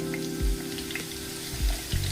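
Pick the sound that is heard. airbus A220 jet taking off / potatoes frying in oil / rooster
potatoes frying in oil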